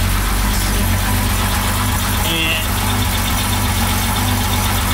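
A classic car's engine idles with a steady low rumble and exhaust drone heard from the rear throughout, a brief word spoken midway over it.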